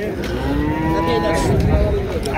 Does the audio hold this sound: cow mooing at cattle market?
yes